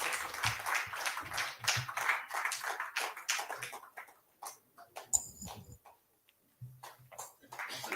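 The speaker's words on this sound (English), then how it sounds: "Audience, can we have a big round of applause," Audience at a live literary festival comedy event clapping, a stretch of scattered claps that thins out and pauses midway, then a few claps resume.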